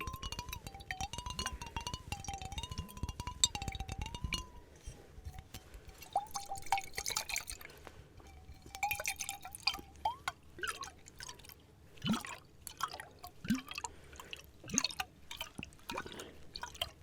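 Wet hands move across glass with soft water triggers: light drips, trickles and faint squeaky rubs that rise and fall quietly through a calm stretch, with no talk.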